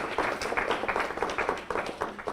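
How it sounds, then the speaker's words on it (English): A round of clapping from a press-conference audience for event sponsors of the Patriots Ball, many hands giving a dense, fairly close, even patter throughout with no talk. "A round of applause for those sponsors as well."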